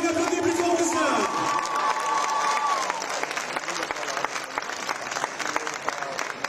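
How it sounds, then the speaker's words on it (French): A large crowd applauds and cheers at the opening ceremony of the 2024 Tour Cycliste de la Guadeloupe, with a voice over a music-like tone at first, then dense clapping continuing on its own. "Allez, on applaudit plus fort que ça."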